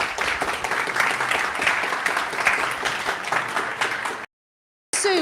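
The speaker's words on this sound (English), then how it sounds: "So please give them all a nice round of applause." A live audience claps for a sports discussion panel, a sustained round of applause at moderate level before cutting off abruptly near the end.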